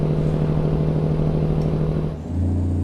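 A Cummins N14 truck engine sound mod in American Truck Simulator, a loud steady diesel idle with rhythmic low pulsing that dips briefly near the end before resuming.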